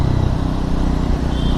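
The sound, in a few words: motorcycle engine revving under a short throttle pull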